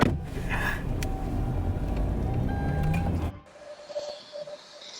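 A car pulls away on the road with a low engine rumble and road noise for about three seconds, then the sound drops to a quieter cabin hum.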